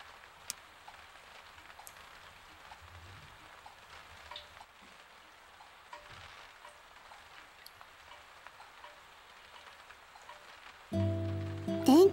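Soft, steady rain patters outside in the PS2 visual novel Akai Ito, a faint, even hiss that continues unbroken until a louder tone cuts in at the very end.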